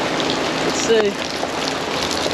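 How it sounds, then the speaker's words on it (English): Rain pattering steadily on an RV awning in an off-grid camp, a dense even hiss of drops close by, with someone speaking briefly over it. "It's not even a very heavy rain."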